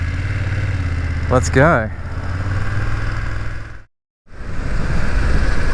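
A BMW F900GS motorcycle idles, then pulls away in first gear with a steady mid-pitched engine hum, close and fairly loud, as someone speaks briefly over it; a short break interrupts the sound before it resumes.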